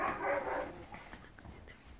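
A puppy at a training boot camp gives a short whining bark followed by faint whimpers, quiet and brief.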